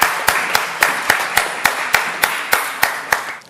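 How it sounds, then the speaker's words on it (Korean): A church congregation claps together in steady unison, sharp loud beats about three or four per second, repeated a dozen times without talk. "하나님께 영광의 박수를 보내겠습니다"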